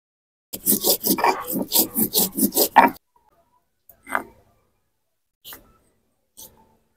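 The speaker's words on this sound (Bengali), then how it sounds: "গোটা ধনে বেটে নেব।" Whole coriander seeds being ground into a paste by hand, a quick run of about ten rhythmic rasping strokes followed by a few sparse, isolated scrapes in near silence.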